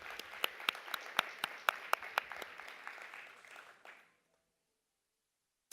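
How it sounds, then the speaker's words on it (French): Classroom audience applauds a student volunteer in a sharp, fairly close burst of individual claps that thins out and stops after about four seconds, leaving silence. "on peut l'applaudir"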